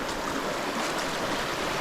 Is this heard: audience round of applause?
no